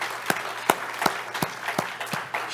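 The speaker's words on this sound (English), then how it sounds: "Let's give a round of applause for Allison for everything." Sparse, distinct handclaps from a small conference audience at a kickoff session, roughly a dozen separate claps at an uneven rhythm, fairly quiet against a faint low hum.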